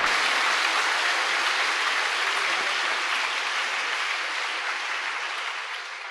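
A church congregation applauds together in a steady wash of many hands clapping, evenly sustained and slowly tapering off toward the end.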